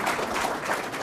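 Audience applause at a congressional town hall, a steady wash of clapping from the crowd that fills the whole moment at moderate volume with no talk.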